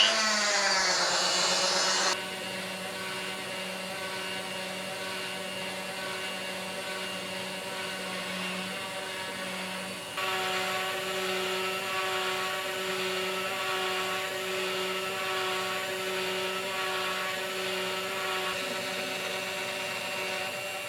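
CNC router carving a wooden project, a continuous loud whining drone with steady tonal hum, shifting pitch slightly partway through as the cutter moves, with no talk.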